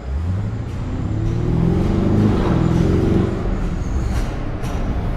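A Lamborghini Urus passes slowly, its engine a loud, steady low rumble with rising and falling harmonic tones as it rolls by close, with no voices over it.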